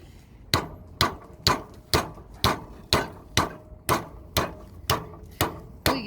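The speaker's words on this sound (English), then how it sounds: "This is just a stronger hammer." A heavy hammer strikes a soda can eleven times at an even pace about every half second, each impact a sharp loud crack with a short ringing decay.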